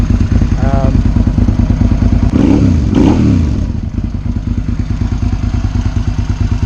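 Close, loud Suzuki SV650S motorcycle engine idling with an even, rapid chugging pulse that holds steady throughout, with a brief faint rise in the middle.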